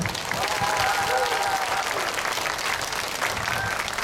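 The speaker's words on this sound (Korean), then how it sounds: "여러분 뜨거운 박수 부탁드립니다" A festival audience applauds a French dancer in a steady, dense wash of clapping from a crowd, sustained and loud throughout with faint voices mixed in.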